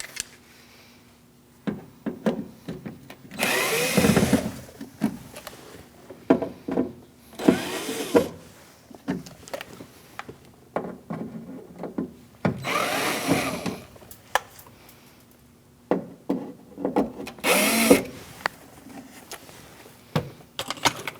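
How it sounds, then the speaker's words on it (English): Screws holding a speaker in a 2000-2006 Mini Cooper door are removed with a Phillips head screwdriver, giving four separate bursts of rasping, grinding turning noise with quiet pauses and small clicks between them. "We're going to use a Phillips head screwdriver and take out these 4 screws."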